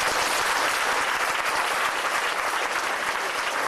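Steady, full audience applause from a crowd at a country music show at Palexpo, dense continuous clapping throughout.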